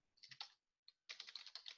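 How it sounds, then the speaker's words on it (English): Quick bursts of clicking keystrokes on a computer keyboard, a short flurry, a brief pause, then a denser run of typing, close and fairly quiet with no voices. "so you can immediately start typing something"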